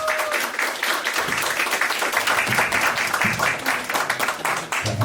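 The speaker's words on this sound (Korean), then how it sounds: "꼭 박수 부탁드리겠습니다" An audience at a theatre award ceremony claps steadily, a dense wash of hands filling the room from start to finish, with a brief voice near the beginning.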